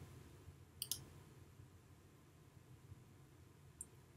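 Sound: mouse click on the Save button

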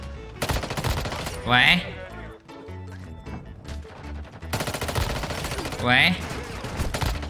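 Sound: Striker 9 SMG gunfire in video game Warzone Mobile

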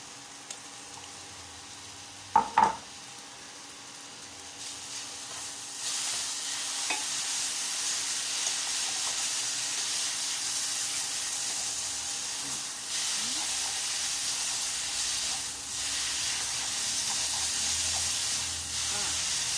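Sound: stir-frying Pad Thai noodles with som tam sauce in pan

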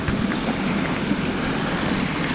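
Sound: water flowing constantly past a rice-farm hut

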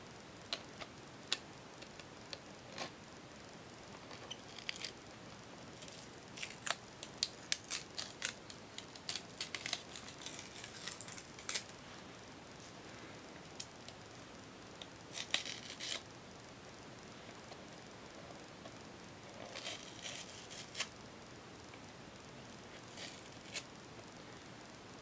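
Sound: peeling a Blockbuster label off a VHS tape

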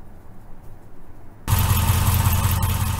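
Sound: Jeep Grand Cherokee engine running with hydraulic fan spinning

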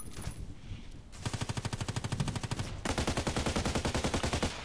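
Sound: HK 243 light machine gun firing in Contract Wars video game

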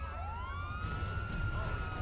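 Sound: police car siren in the video game GTA 5

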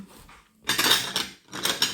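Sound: cutlery, teaspoons and forks being handled

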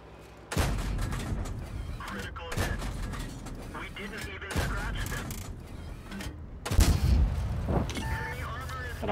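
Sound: tank cannon fire in World of Tanks video game

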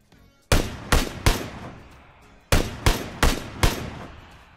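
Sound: gunshots in the video game PUBG, hitting a low wall

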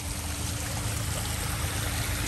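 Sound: small waterfall trickling

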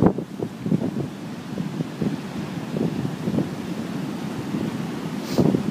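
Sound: ocean waves breaking on shore with wind

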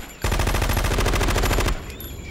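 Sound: machine gun fire in video game Metal Gear Solid 2

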